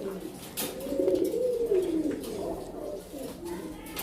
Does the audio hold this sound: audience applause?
no